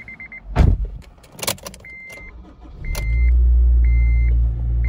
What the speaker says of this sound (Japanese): ちょっとエンジンかけてみましょう。